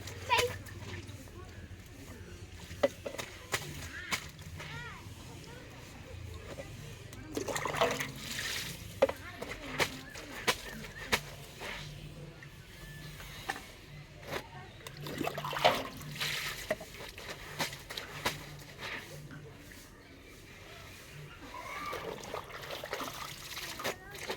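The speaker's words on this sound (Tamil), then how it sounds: "தண்ணி அடியா வருது" Water running and trickling in a small home during household chores, a steady wash with occasional splashes and clatters, people talking over it at times.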